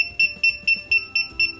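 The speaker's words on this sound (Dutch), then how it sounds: "hij begint dus te piepen als jij daarvoor kiest op je telefoon" Bluetooth key finder keychain alarm, a budget gadget from Action, beeping in a steady rapid series of about seven sharp, shrill electronic tones, close and loud.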